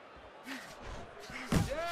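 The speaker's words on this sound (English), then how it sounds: "Targeting the jab and then thundering home with the uppercut." Punch impacts in the boxing video game Fight Night Champion: a jab followed by a heavy uppercut, thudding hits under commentary voices and crowd noise.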